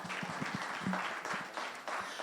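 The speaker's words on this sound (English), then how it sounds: "Give them a round of applause." Audience applause at a chamber of commerce business event, moderate clapping from a modest crowd with a few distinct hand claps standing out early, heard at a fair distance and fairly quiet.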